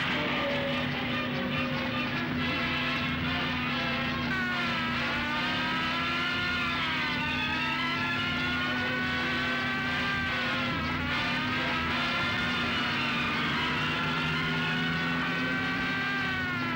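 A car driving fast in a 1977 Hindi action film scene, its engine roaring loud and steady with rising and falling pitch sweeps as it accelerates, filling the whole stretch without talk.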